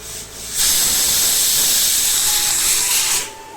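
A pressure cooker cooking mati dal lets out a loud steam whistle, a sharp hissing blast that starts abruptly, holds for about two and a half seconds, then cuts off, with no voices.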